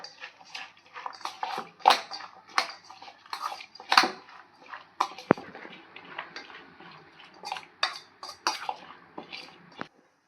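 A spoon clinks and scrapes around a bowl in irregular bursts as onion samosa filling is stirred together, with soft tapping knocks between strokes.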